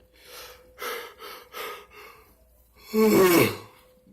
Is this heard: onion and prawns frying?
no